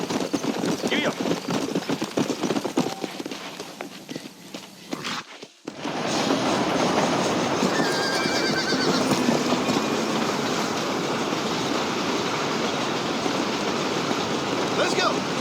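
In the Red Dead Redemption 2 video game, a horse gallops in a rapid, rhythmic hoof clatter that drops out briefly, then returns steady and loud with a wagon-like rattle under game dialogue.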